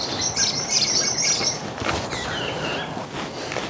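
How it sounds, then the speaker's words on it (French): A bird chirps excitedly overhead on a spring day, with bright rapid tweets in a burst followed by softer scattered calls against a quiet outdoor background. "Il y a un oiseau qui s'excite là-haut"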